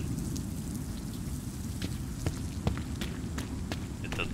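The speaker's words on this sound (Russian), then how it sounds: "Это дождь." Steady rain hisses continuously in a video game, with scattered sharp drop-like ticks and a dense low rumble underneath, even and unbroken throughout.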